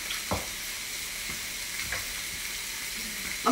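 Beef sizzles on a Japanese yakiniku grill with steady crackling and a few sharper pops, close and moderately loud, with no talking.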